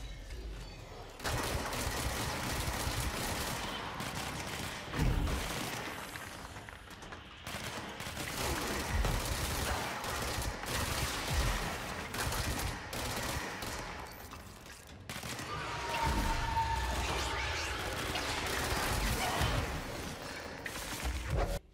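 Weapon gunfire in the video game Control, with dense bursts of rapid shots and heavy blasts in several volleys separated by brief pauses, loud and close without speech.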